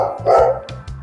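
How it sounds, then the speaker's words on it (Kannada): A dog barks during leash walk training, a few sharp close barks in quick succession, loud and clear. "ಈಗ ನೋಡಿ, ಇಷ್ಟುದ್ದ ಬಿಟ್ಟಿದ್ದೀನಿ ನಾನು, ನಾಯಿ ಬೊಗಳ್ತಾ ಇದೆ"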